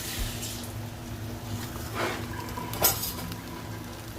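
Fried rice being stirred in a pan gives soft scraping and a faint sizzle, with one brief bright clink of utensil on metal near the middle.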